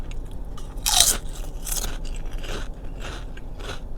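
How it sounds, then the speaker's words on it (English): Thin homemade fried chips are bitten, giving a loud sharp crunch followed by several softer crunchy chews, close to the mic and with no talking. "that is some good crunch"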